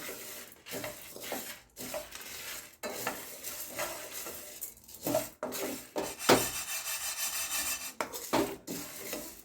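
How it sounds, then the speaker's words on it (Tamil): Lentils, pepper and three dried chillies dry-roast in a pan for Chettinad-style paruppu powder, with a spatula scraping and stirring in repeated rough strokes and brief gaps between them; no one speaks. "இதை நம்ம வறுத்து எடுத்துக்கிடுவோம்"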